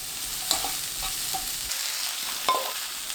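Steady sizzling from a hot pan with occasional scraping and clinks as onion, carrot and other vegetables are stirred and tossed during stir-frying.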